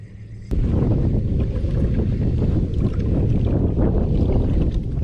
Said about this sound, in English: Wind's got me pushed sideways now.